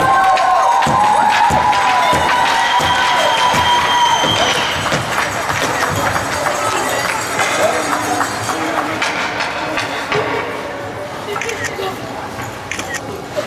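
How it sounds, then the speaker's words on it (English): Crowd cheering and applause for a Glace Bay peewee hockey team at an arena, a loud dense wash of claps and shouts with a whistle-like tone early on, staying strong throughout and fading slightly near the end. "Have a big round of applause"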